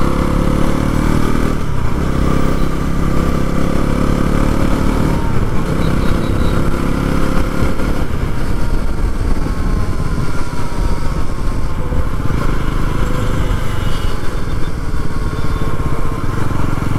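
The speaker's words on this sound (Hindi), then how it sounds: "तो अंदर बैठने के बाद भी इंजन में ऐसा कोई लोड नहीं लग रहा, आराम से भाग रही गाड़ी" A Bajaj Pulsar NS400 motorcycle engine runs loud and close while riding, a continuous rough drone with wind noise and small shifts in pitch throughout.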